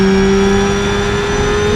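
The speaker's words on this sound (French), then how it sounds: "Un moteur de 8 à l'arrière. Il fait un bruit inimaginable." A rear-mounted V8 car engine in BeamNG.drive holds a loud, steady, high-revving drone with a strong sustained tone, heard close and alone for under two seconds.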